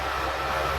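Continuous low rumble and rattle of a moving train heard from inside the carriage, steady and fairly loud, with no talking.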